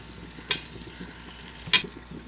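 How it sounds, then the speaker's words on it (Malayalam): Chopped tomatoes hitting a hot frying pan for a chicken roast, giving a low steady sizzle broken by two sharp scraping stirs of the spatula, with no voices. "നമുക്കിനി ഈ 2 തക്കാളി അരിഞ്ഞ് വെച്ചത് ഇട്ട് കൊടുക്കാം."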